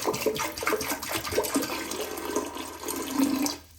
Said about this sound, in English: you're going to want to go ahead and put water in the bowl